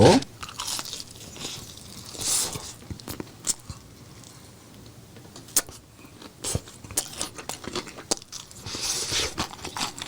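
Crispy boneless fried chicken drumstick being bitten and chewed up close, with loud crackling crunches in irregular bursts and softer chewing between them, no speech.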